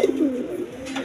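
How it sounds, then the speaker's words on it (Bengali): A big Indian Bombay pigeon coos in a low, throaty warble, close and fairly loud, with a short rolling phrase that rises and fades over about a second, no other sound around it. "দেখেন কোয়ালিটিপূর্ণ কবুতর"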